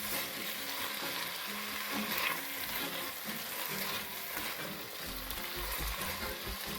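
Stirring a frying plant-based mixture seasoned with black pepper and salt in a pan gives a steady close sizzle with scraping and shuffling, plus a few low knocks near the end and no talking.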